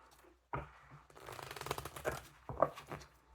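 Tarot cards being shuffled close up, a quick riffling rattle that builds and ends in a few sharp taps.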